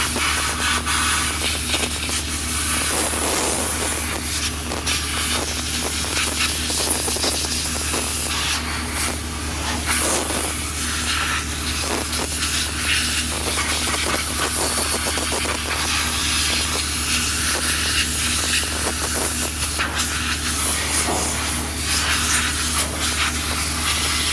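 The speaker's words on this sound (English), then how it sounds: "This W40, okay, it's almost empty. You're gonna spray" WD-40 aerosol spray hissing steadily onto the very rusty rear brakes of a Honda Ridgeline, a continuous loud hiss lasting throughout with small sputtering variations as the nearly empty can runs low.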